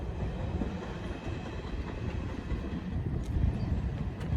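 A freight train rolls across a railroad diamond, producing a steady, loud, close rumble with rattling wheel noise that swells slightly near the end.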